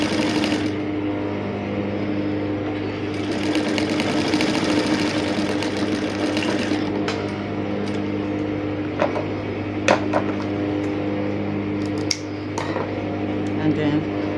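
A sewing machine stitches boning onto a crinoline mesh sleeve, a continuous close motor hum with rapid needle chatter running throughout, with a few sharp clicks and knocks near the end.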